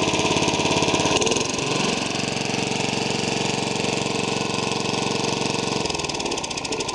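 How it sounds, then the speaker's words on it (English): Nearly 30-year-old engine idling steadily after a cold start, a loud, even, rhythmic mechanical chugging with a slight shift in tone midway, running alone without speech. "Not bad for a nearly 30-year-old engine. Quiet, runs smooth,"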